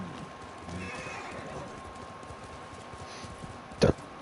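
A horse in the Ghost of Tsushima video game trots with faint hoof clops, ending in a short, sharp burst near the close; the sound is quiet overall and heard on its own without talk.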